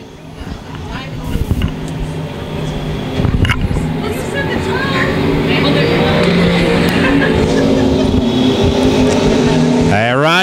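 Dirt track race cars roar through a heat race at Lakeside Speedway during the USRA Nationals, their engines building into a loud, sustained drone while a commentator talks over the racing.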